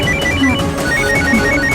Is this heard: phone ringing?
yes